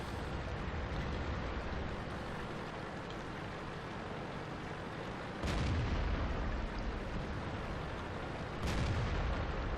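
Tank cannon in World of Tanks, an American T69 on an arctic map, booming twice over a constant engine and ambient rumble, each shot a sharp loud crack with a short tail.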